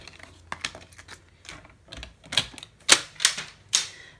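Card stock being cut into pieces for a fold card, a series of sharp clicking cuts and snips, irregular at first then growing louder and crisper toward the end, close up with no talk.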